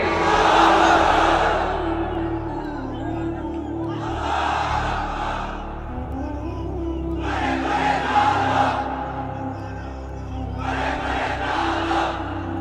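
Large crowd in a religious lecture gathering shouting a takbir chant in unison, four loud bursts of massed voices with short pauses between them.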